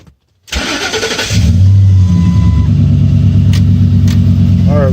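A 2008 Ford F-150 with a 5.4L V8 cranking over after a moment of silence, a rapid starter churn that catches into a loud, steady rumbling idle, with a few clicks near the end.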